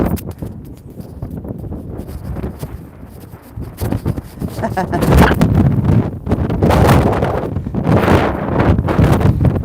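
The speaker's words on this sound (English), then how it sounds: "Wind, go away." Wind gusts buffet the microphone on an outdoor walk, a steady rumbling roar that swells louder midway and stays strong to the end.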